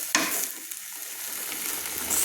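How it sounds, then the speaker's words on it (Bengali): Ground spices sizzle and fry in hot oil with a splash of hot water while being stirred for an egg, yam and cauliflower dalna. A faint, steady hiss carries throughout with a few sharp clinks of the spoon. "তেলের মধ্যে মশলাগুলো একটু কষিয়ে নিচ্ছি।"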